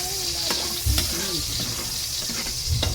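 Garlic fries in a pan with a bright constant sizzle, broken by a few sharp scraping stirs and low thumps of the utensil, close and steady, with faint voices briefly in the background.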